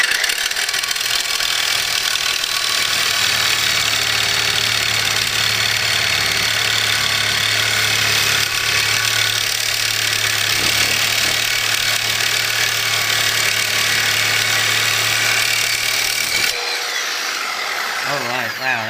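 A reciprocating saw with a Diablo carbide tooth blade cuts steadily at close range, its loud rasping buzz holding for about sixteen seconds before it cuts off abruptly.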